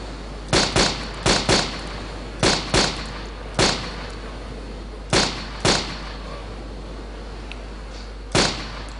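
Gunshots in the video game DayZ during a headshot kill: about a dozen sharp, loud reports, some in quick pairs and others spaced out, over a steady low background hum.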